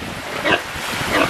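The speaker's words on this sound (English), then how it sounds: "But that's the pigs." A couple of pigs in island jungle grunting and oinking close by, a short run of snorts and grunts over steady outdoor background noise.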